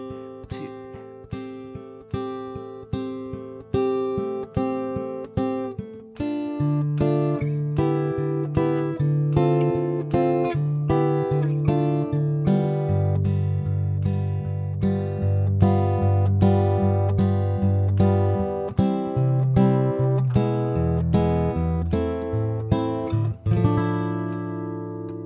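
Guitar plays the verse of a song, starting with sparse plucked chords and then filling out with a sustained bass line and strummed chords. It plays continuously and loud, with no talking.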